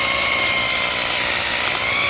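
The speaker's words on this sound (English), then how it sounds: "let's drill our first hole for our first fence post" Power drill boring the first post hole for a pool fence, mounted on a 4x4 wood base, sounding as a steady, loud continuous whir with a high tonal whine held throughout.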